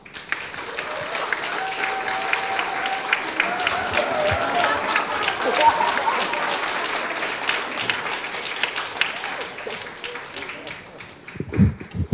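An audience at a talk applauds with sustained, dense clapping for several seconds, then it dies away into a few scattered claps and handling noises.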